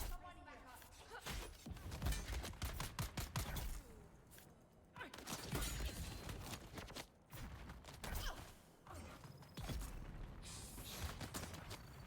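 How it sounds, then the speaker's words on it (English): Rapid bursts of gunfire firing bullets or darts in the Dune game's Deep Desert, sharp crackling volleys that come in clusters with pauses between, mixed with mechanical clanks and whooshes, while a person talks intermittently over the action. "Oh crap, that's a lot of bullets."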